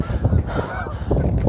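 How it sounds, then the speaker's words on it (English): A flock of geese honks loudly and close by, several overlapping calls in quick succession with no pause, no voices heard. "And a bunch of geese."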